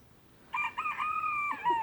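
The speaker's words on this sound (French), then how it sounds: "on les arrête plus nos poules cantiliennes. Elles veulent continuer le concert." A rooster crows loudly and close in a vegetable garden, one long drawn-out call that rises and holds, after a quiet moment with faint background hens.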